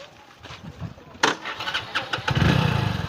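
A motorcycle engine cranks and catches, starting from a rough burst into a rising rumble over a few seconds, with background noise and people nearby.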